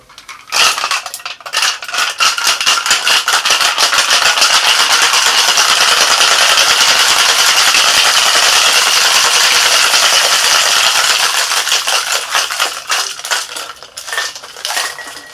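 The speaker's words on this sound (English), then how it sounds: "let's get some ice for our shaker. And let's give this bad boy a shake." Ice cubes rattle hard in a cocktail shaker during a tequila and Marsala drink, a loud rapid shaking that runs steadily for about ten seconds before easing off, with no talking.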